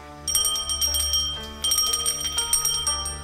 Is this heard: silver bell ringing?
yes